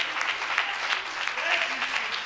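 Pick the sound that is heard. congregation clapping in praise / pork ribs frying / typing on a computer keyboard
congregation clapping in praise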